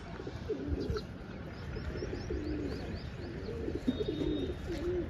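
A group of pigeons feeding on scattered wheat coo softly and steadily nearby, with faint chirps and light rustling mixed in, and no talking.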